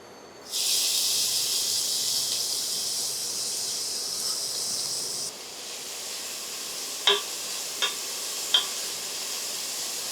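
Chopped onions sauté in a hot pan, a loud steady sizzle starting suddenly, then easing to a softer hiss, followed by three sharp clicks, with no speech.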